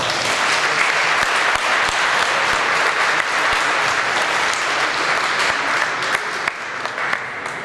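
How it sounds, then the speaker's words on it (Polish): A crowd applauds at the opening ceremony of a regional boxing championship in Lublin, sustained even clapping throughout, loud and dense, with individual claps popping out near the end as it thins slightly. "Brawa!"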